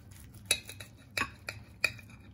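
A cooked bacon-topped turkey breast being sliced, with three or four distinct clinks of a knife against a plate or board, fairly close and quiet, no voices.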